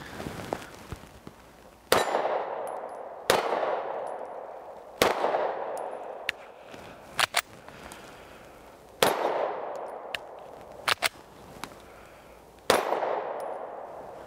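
A BRG 9 Elite 9mm pistol fires a string of sharp, loud shots at uneven intervals, some in quick pairs, each with a ringing outdoor decay, no voices.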